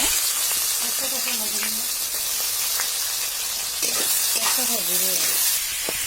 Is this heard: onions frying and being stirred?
yes